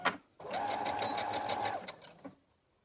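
A sewing machine stitches fabric in one quick burst of rapid, even needle pulses, close and clear, then slows and stops, leaving near silence.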